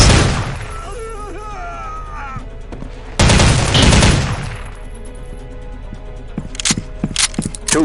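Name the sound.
gunfire in video game Soldier of Fortune 2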